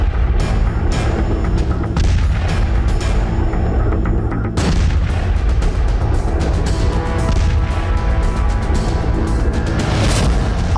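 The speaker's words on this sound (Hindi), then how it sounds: "आपने नगरोटा का ये धमाका देखा" Heavy explosions and gunfire from the Nagrota terrorist attack boom in dense, loud bursts over continuous noise, with a sharp drop and renewed blast near the middle.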